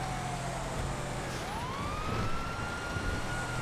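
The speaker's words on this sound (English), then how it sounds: "The Police Rancher. Absolutely get those sirens on." A police siren wails on a Police Rancher in the GTA FiveM game, rising and falling steadily over loud engine and road noise.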